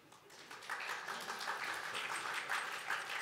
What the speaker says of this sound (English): she's the only one that gets applause